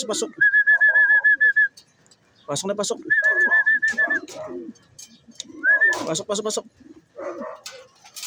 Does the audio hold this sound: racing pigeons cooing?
yes